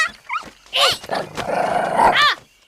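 A small pet dog growls and yelps up close in short, loud bursts, with people speaking around it.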